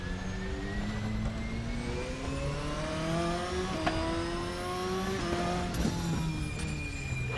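Race car in the RaceRoom driving game, engine revving up and down through gear changes with crackling exhaust pops and sharp bangs on the overrun, loud and continuous.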